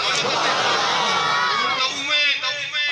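A crowd at a religious conference shouts a slogan in response, a loud, sustained roar of many voices. Cheering and shouting fill the whole stretch, with a speaker's voice mixed in.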